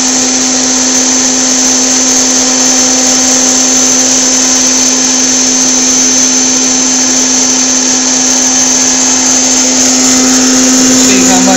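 A hot-air popcorn popper roasts coffee beans about six minutes into the roast. It gives off a loud, steady whirring motor drone with a constant hum that runs unbroken from start to finish.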